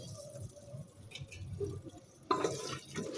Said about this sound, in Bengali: আমি অল্প একটু পানি দিচ্ছি